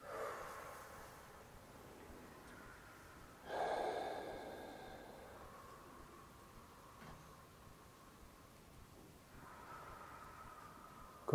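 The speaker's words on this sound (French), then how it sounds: "On va commencer par poser quelques respirations profondes. 1, 2, 3 expirations profondes." Slow, deep breaths and exhalations during a guided meditation, one stronger breathy exhale standing out midway, the rest soft and airy with quiet room noise and no talking.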